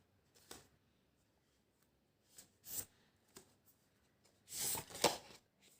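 Tarot cards shuffled and drawn by hand: several soft, papery riffles and slides come in uneven bursts, the longest near the end, with quiet pauses between them.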